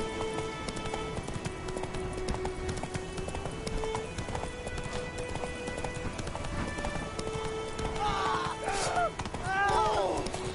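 Clip-clop hooves of Roach, the horse in The Witcher 3, carry steadily through the whole stretch under game ambience, with a voice over it and a brief whinny-like burst near the end.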